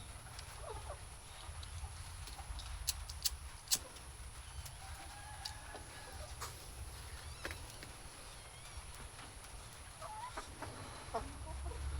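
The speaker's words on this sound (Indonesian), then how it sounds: "ayam kita berkokok." Backyard chickens and roosters at a coop in the late afternoon, with scattered clucks and a few short, distant calls over steady low farmyard hum and insect background. Quiet and ambient, no talking.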